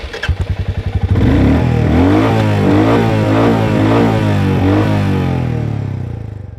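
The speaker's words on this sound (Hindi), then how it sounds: "जो इसकी एग्जॉस्ट की साउंड है वो ऐसी ही 1000 आरपीएम पर होती है, ऐसी ही 5000 आरपीएम पर होती है।" A 2022 350cc motorcycle starts with a few quick chugs, then its engine and exhaust hold a loud, close, throbbing rev with rhythmic pulsing before easing off at the end.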